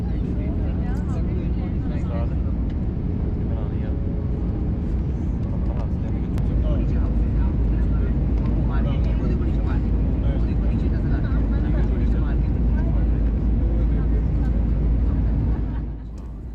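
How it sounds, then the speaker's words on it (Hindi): A passenger airplane descends toward Skardu airport, and its engines make a steady, loud cabin drone that runs throughout with no pauses. "जहाज़ मुसलसल नीचे आता जा रहा था"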